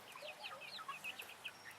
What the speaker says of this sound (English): we have chickens inside